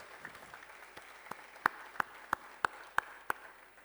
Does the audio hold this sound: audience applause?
yes